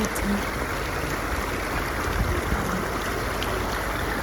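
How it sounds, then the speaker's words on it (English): Water gushes steadily from outdoor water spouts, a loud continuous broadband rush with no voices over it. "water spouts here"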